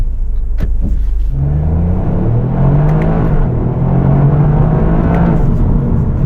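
A 2024 Toyota GR Yaris accelerates hard from a standing start, its engine note climbing steadily in pitch over several seconds as it pulls away, loud and close, with no voices.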